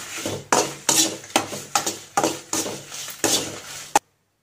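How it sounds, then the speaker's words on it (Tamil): About ten dried red chillies dry-roasting in a hot pan, tossed and stirred in roughly seven sharp rhythmic scrapes and rattles, close and fairly loud with no talking, ending abruptly. "அடுத்து வந்து ஒரு 10 12 மிளகாய் எடுத்து வச்சுருக்கேன், காஞ்ச மிளகாய். ஸோ அதையும் நம்ம வறுத்துக்கலாம்."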